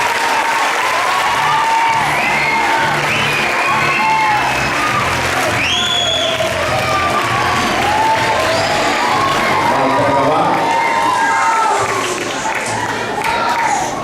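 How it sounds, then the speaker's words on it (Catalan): Loud, sustained applause from a school Christmas festival audience, many hands clapping close and continuous, with cheering, whoops and children's shouts rising over it. "Un fort aplaudiment."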